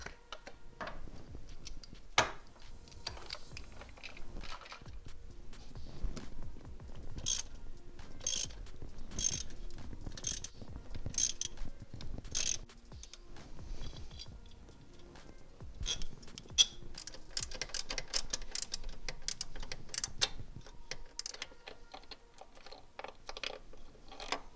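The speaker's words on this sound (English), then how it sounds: "So let me loosen those bolts up and we'll get going on the install." A ratchet wrench loosens the pitch stop mount bolts on a Subaru STI, with quick runs of close, rapid clicking and occasional metallic knocks repeating for the whole stretch, no talking.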